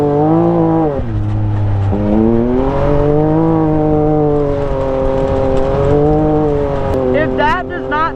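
A Can-Am X3 side-by-side engine drones loudly on a dirt track, pitch climbing and dipping through shifts and throttle changes, ending in a rapid warbling burst; close and continuous.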